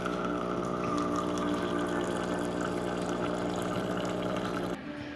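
A Flavia Creation C200 drinks brewer pumps water through its pipe during descaling, a steady loud motorized hum with liquid flow that runs continuously and then cuts off abruptly near the end.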